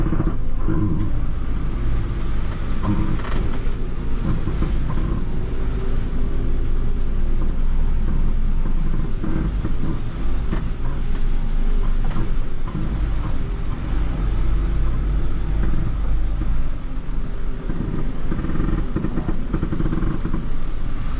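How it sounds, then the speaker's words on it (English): A Mercedes-Benz Unimog crosses slush in sixth gear. Its engine drones loud and steady, with rumbling road and chassis noise and a voice faintly under it. "So we are crossing a slush and engaged to 6 just to reduce the speed."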